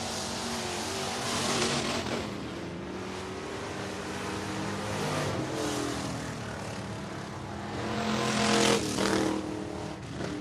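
Grassroots hobby stock race cars roar around Lake Cumberland Speedway in Burnside, Kentucky, engines droning and swelling as the pack passes, loud and continuous with no talk.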